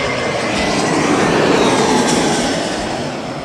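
A Finnair airliner at London Heathrow Airport passes at a distance, a broad steady jet roar that swells gently and then fades, with no voices.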